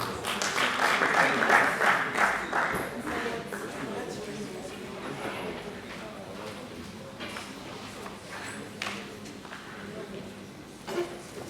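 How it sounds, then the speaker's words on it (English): Applause from a group: dense clapping, loudest at the start, then thinning to a scattered patter with a few louder claps near the end. "Let's clap for them."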